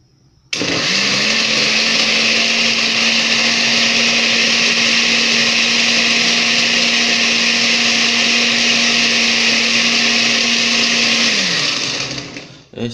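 A blender whirs loudly and steadily as it blends chicha morada, running at full speed for about eleven seconds before cutting off, with no talking.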